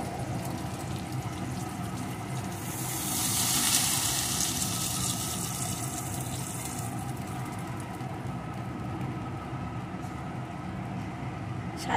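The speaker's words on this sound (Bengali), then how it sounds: "এখন দিয়ে দেবো পরিমাণ মতো জল।" Water is poured into a pan of fried eggplant and potatoes, making a hissing rush that swells for a few seconds mid-clip over a steady low background hum.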